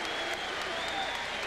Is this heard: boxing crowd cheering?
yes